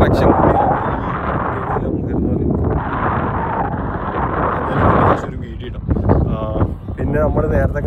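Strong cold wind buffets the microphone on a walkway bridge in Buenos Aires, a loud continuous roar with gusts, and a voice is heard talking toward the end.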